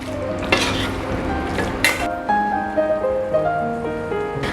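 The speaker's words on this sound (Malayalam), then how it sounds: "ഇനി നമുക്കിതിനെ നന്നായിട്ടൊന്ന് മിക്സ് ചെയ്ത് ചേർക്കാം." Squid roast gets stirred in a pan, with a steady sizzle underneath and several sharp scraping clinks of the spoon against the metal, loud and close, with no voices.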